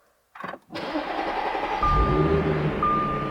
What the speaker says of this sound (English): So we can now start our car up.